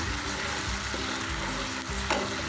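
Masala sizzles steadily in hot ghee while being stirred, a continuous dense frying hiss with faint scraping strokes, close and fairly loud, no voices.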